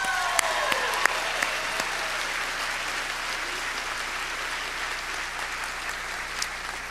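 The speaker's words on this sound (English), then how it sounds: "give yourselves a big round of applause" A high school graduation audience at Mission Senior Secondary gives a sustained round of applause, dense steady clapping filling the hall for several seconds with a few sharper claps standing out early on.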